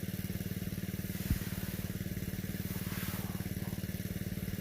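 A fairly large engine drives an irrigation water pump on a farm with mango trees, rice paddies and fish ponds, chugging in a fast, even rhythm with one sharp knock early on.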